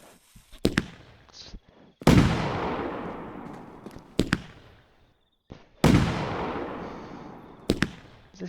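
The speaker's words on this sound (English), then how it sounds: "start launching some fireworks." Fireworks launch in the video game Fireworks Mania: two loud whooshing bursts with long hissing, crackling tails, scattered sharp pops and crackles in between, close and fairly loud.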